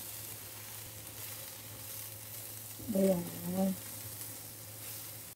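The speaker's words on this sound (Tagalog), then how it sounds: "Kumukulo na ang aking eggplant steak." Eggplant steak fries in a pan with a quiet, steady sizzle, rising into a brief louder crackle midway; a voice speaks briefly.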